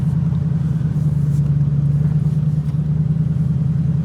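A TVR Chimera cruises along the road with a steady, loud low engine drone and rumble that barely changes in pitch or level and goes on alone, with no speech over it.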